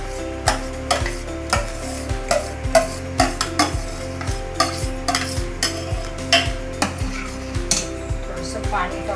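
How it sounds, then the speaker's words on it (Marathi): Mashed potato is stirred into frying pav bhaji in a pan, a regular rhythm of spoon scrapes and knocks against metal over a soft sizzle, continuing evenly for about nine seconds. "आता आपण मॅश केलेला बटाटा टाकूया याच्यामध्ये."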